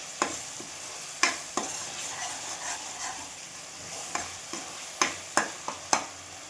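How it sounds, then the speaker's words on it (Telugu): Tomato masala frying in a pan for Andhra fish pulusu, a soft sizzle under repeated sharp scraping strokes of a spatula, several distinct knocks spaced irregularly and clustering near the end. "అప్పటి వరకు దీన్ని ఫ్రై చేద్దాం."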